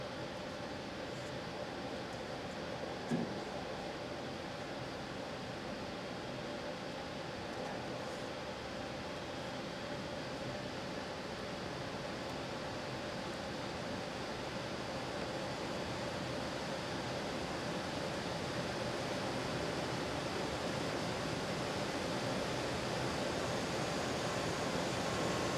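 An HVAC air handler's ECM blower motor strains against blocked airflow, giving a steady, loud broadband roar like rushing air that swells slightly over time, continuous and without voices.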